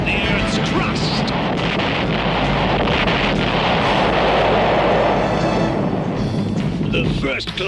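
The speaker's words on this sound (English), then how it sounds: "It's a series of explosions designed to crack the Earth's crust." Explosions in a 1986 Inhumanoids cartoon, set to crack the Earth's crust: a sustained loud roaring rumble that swells and fades, with a character talking over it.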